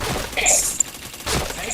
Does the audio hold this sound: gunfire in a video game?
yes